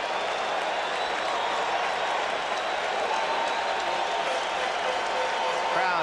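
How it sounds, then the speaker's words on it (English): A packed baseball stadium crowd at Game 7 of the 1986 World Series between the Red Sox and Mets roars steadily and loudly, hoping for a strikeout, a dense unbroken wall of cheering with no letup. "Crowd making the kind of noise it normally makes for Dwight Gooden. They want another strikeout."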